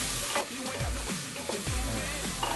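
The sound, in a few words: sautéing onion, ginger and turmeric in a pan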